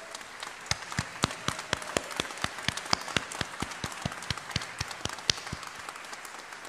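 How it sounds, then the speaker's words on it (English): Applause at a medical school commencement ceremony in 2023: a crowd claps steadily for several seconds, giving dense, even sharp claps at moderate distance with no speech over it. "give him applause"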